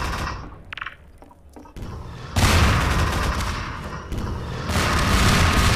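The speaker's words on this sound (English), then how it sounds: "I'm unloading grenades." Grenade explosions in the Garry's Mod video game, a cluster of loud booming blasts and crackling bursts rolling together over several seconds after a few sharper thuds, no speech over them.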